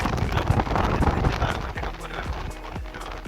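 Steady wind gusting across the deck of a ship at sea, a continuous rushing roar with buffeting on the microphone, and a few faint thumps beneath it.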